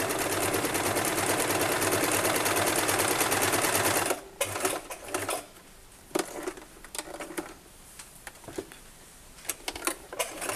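A sewing machine stitches fabric for a washable wipes basket in a fast, dense rapid run for four seconds, then falls to short bursts of stitching and handling clicks.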